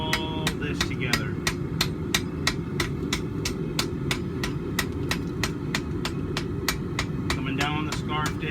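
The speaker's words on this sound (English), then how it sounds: "I'm going to start working this bolster area with the ball peen side pretty heavily." A ball peen hammer strikes hot steel while forge welding a back scratcher, about thirty sharp metallic blows in a fast, even rhythm over a steady roaring forge hum.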